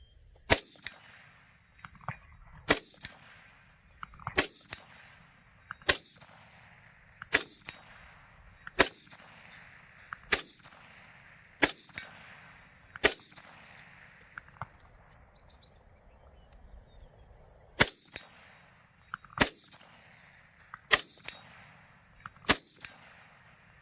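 Sharp shots from a Chinese Type 56 SKS rifle fed by a drum magazine crack out one at a time at an uneven pace, about sixteen loud reports with short stalls and a longer gap between groups.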